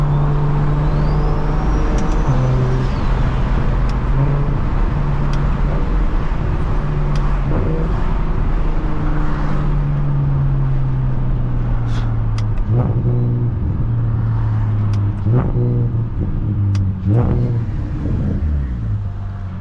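A single-turbo BMW 335is cruises in traffic, its steady engine drone loud and close from inside the cabin, with pitch shifting as it accelerates and eases off, plus passing road noise and occasional bumps.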